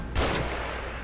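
Gunfire in the survival horror game The Evil Within cracks out in a single loud, close burst that fades into a rumbling tail.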